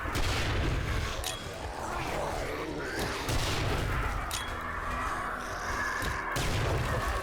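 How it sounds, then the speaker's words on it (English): Explosions from Molotovs and contact grenades in 7 Days to Die, a dense, continuous barrage of booming blasts and crackling fire sustained throughout, loud and close, with a voice faintly mixed in. "Maybe use a contact grenade too to clean some of them out just a little bit"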